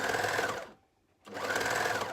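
A sewing machine stitches binding in two short, steady bursts of rapid mechanical chatter, close and clear, separated by a brief silent pause.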